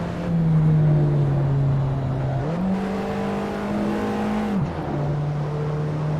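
An Alfa Romeo 4C engine in the racing game Assetto Corsa, a steady buzzy drone that holds, steps up in pitch with a rev, then drops back down after a downshift, loud and continuous throughout.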